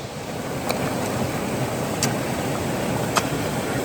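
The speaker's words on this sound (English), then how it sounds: "we are right here on the creek. And it's running pretty good for this creek" A Mother Lode creek running strongly makes a steady, broad rushing wash close by, constant throughout with a few faint clicks on top and no talking.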